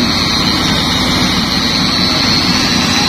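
Steady, loud engine drone from a concrete paving machine pouring rigid pavement at a toll road construction site, continuous and unbroken throughout with no talk.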